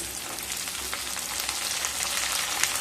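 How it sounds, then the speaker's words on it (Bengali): Potatoes and beans fry over low to medium heat in a pan, giving a steady, close sizzle with small crackling pops and no talking. "আলুটাকে দু থেকে তিন মিনিট লো টু মিডিয়াম স্টিমে একটু ভেজে নেব"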